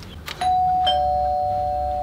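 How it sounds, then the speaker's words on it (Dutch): A single electronic doorbell chime rings out, a clear sustained tone that lingers and slowly fades, with quiet background noise and no talking. "Bel maar aan."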